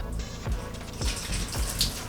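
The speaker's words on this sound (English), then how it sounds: "I found a way to show you guys how the shower works" Shower water running inside a small floating cabin, a steady close hiss of spray with a few faint drips and thumps on top, no voices.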